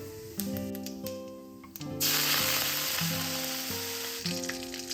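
Mustard seeds, urad dal and fennel popping in hot oil, with curry leaves then added for a Tamil-style tempering; a steady loud sizzle that jumps in intensity partway through as the leaves hit the oil, with no voices.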